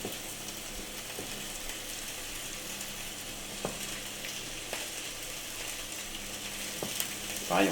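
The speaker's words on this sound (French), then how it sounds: "on fait revenir les poivrons rapidement. Il faut les faire colorer légèrement." Bell peppers frying in a pan, a steady soft sizzle with occasional clicks of stirring, fairly quiet and continuous, with a brief louder rustle at the end.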